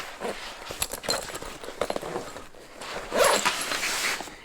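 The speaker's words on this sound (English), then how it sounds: "But I usually just leave it how it is, zip it up." A Matein 15.6-inch laptop backpack is zipped shut up close, with a few scratchy rasping pulls of the zipper and some handling rustle between them.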